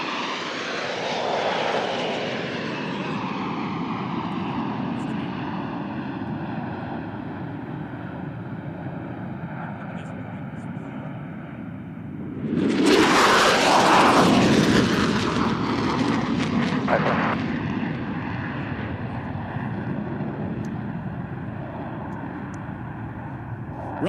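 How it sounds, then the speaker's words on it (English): Military aircraft in a fleet flyby at a naval air station air show, engines roaring steadily overhead, swelling to a loud, close pass midway before fading back into a sustained distant drone. "this is the Fleet Flyby"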